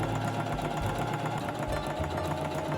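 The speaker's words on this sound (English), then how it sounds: "I took this to my sewing machine and stitched along where I pinned" A sewing machine runs steadily, its rapid mechanical whir and rattle continuous and close, with no voices.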